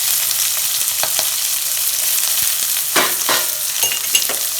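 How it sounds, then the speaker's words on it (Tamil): Sliced big onions sizzle steadily in hot oil with lentils and broken chillies, with a few scrapes of a stirring spoon in the pan, close and even throughout. "போட்டு கொஞ்சம் நல்லா வதக்கிக்கலாம்."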